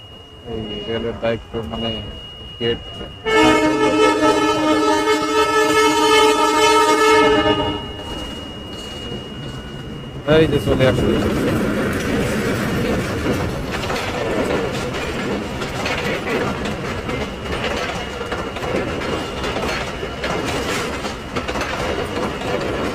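A train passes a road level crossing on a rainy day: loud sustained horn blasts, then a long, continuous rumbling clatter of wagons rolling close by.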